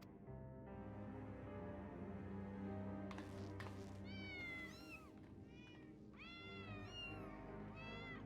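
Several kittens meow repeatedly in rising, high-pitched cries, a cluster of calls in the second half over a steady low hum and background game music.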